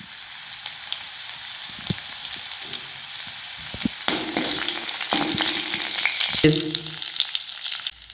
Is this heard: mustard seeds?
yes